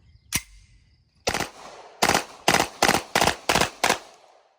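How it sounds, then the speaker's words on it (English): A Beretta M93R burst-fire machine pistol shoots on an outdoor range. Two loud, separate shots are followed by a steady string of six sharp reports, all close and ringing. "We're just going to put some rounds down range"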